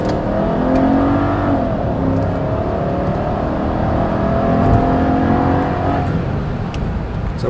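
A Mercedes SL 500 of the R230 generation revs up close by, its engine a loud, steady roar that swells and eases over about seven seconds, with no talking.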